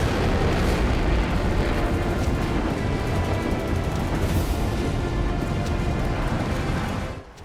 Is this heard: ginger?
no